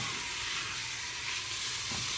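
Chicken parmesan pasta in a quick cooker sizzles and hisses steadily while being stirred, a constant bright frying noise with faint scraping at the close of the stir.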